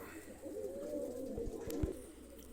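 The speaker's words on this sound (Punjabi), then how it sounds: "ਇੱਕ ਕਬੂਤਰ ਉਰੇ ਹੋਰ ਬੈਠਾ ਉਹਨੂੰ ਮੈਂ ਦਿਖਾਉਣਾ" Pigeons coo softly in a loft, giving a low, rolling, throaty call that swells and fades over a couple of seconds, with faint wing or perch taps near the end.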